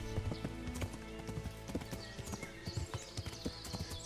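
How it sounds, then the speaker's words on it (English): Horse hooves clip-clopping steadily along a road in the video game Kingdom Come: Deliverance, a close, even trotting rhythm over a busy background of game ambience and music, with a brief whinny-like sound. "Definitely a slower horse"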